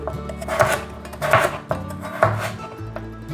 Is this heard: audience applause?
no